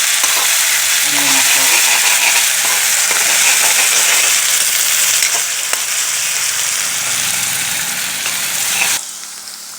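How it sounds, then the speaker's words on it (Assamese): Onion and ginger garlic paste frying in oil for egg curry, a loud continuous sizzle with occasional stirring clicks, fading slightly before cutting off near the end. "ৰঙচুৱাকৈ পিঁয়াজটো ভাজি ল'ব লাগিব তাৰপিছত আদা নহৰু পেষ্টটো দিব লাগিব"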